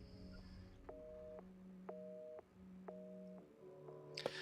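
Telephone busy signal from the video game Resident Evil 7: steady repeating on-off tone bursts, about four even pulses, moderately loud over a low background hum, ending with a brief clatter.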